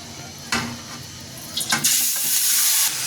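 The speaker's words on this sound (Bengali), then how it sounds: "এবার মাখানো মুরগির মাংসগুলো এখানে ঢেলে দেব" Marinated chicken poured into a hot, lightly oiled pan, a sudden loud hiss that rises midway and keeps sizzling strongly to the end, after a few faint clinks.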